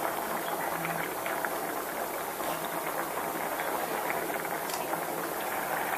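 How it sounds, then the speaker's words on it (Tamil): Vegetables simmering in coconut milk for a Tirunelveli-style sodhi kuzhambu give a steady, soft bubbling that stays even and fairly quiet throughout, with no voices over it. "கொஞ்ச நேரம் அது வேகட்டும், நல்லா கொதித்து காயெல்லாம் நல்லா வேகட்டும்"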